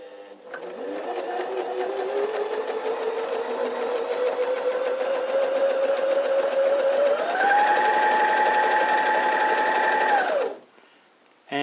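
A Janome MS 5027 Limited Edition sewing machine runs continuously, its motor whirring steadily and rising in pitch partway through before stopping abruptly near the end.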